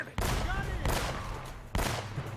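Gunfire from the game Uncharted: Drake's Fortune, three loud broadband shots spaced roughly evenly apart, each with a ringing tail, alongside faint in-game voices.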